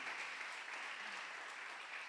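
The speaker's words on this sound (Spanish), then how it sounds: "Dale un aplauso a Jesús si usted lo está creyendo" Applause from a church congregation during a discipleship sermon, a soft, continuous wash of many hands clapping at an even level throughout, heard from some distance.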